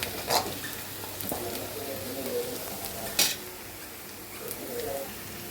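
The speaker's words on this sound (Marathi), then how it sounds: "अजून एक अर्धा मिनटं ह्याला मी चांगला अजून थोडासा परतून, म्हणजे ह्याच्यातलं कच्चं पण कांद्यातलं निघून जाईल" Onions sautéing in a pan for fish curry, a soft continuous sizzle with occasional spoon scrapes and clatters against the pan, fairly quiet and without talk.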